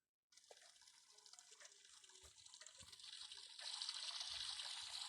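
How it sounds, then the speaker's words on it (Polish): Tap water running steadily as hands are washed in the Roblox game Brookhaven, a bright continuous rush that swells louder partway through, with no talking. "Myję rączki."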